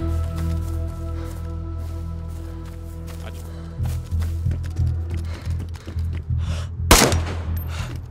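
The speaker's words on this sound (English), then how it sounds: "I just shot the guy in the chest that's looting." A single sharp rifle shot rings out in DayZ, loud and close, standing out briefly above a steady low in-game hum and scattered footsteps.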